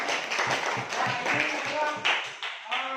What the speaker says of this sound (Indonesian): kasih aplaus bro